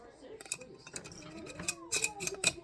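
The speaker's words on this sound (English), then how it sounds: "Pop my little lid on each one" Lids pressed onto small glass jars of homemade elderberry syrup give a series of light, close clinks and clicks that quicken toward the end, with a faint voice beneath.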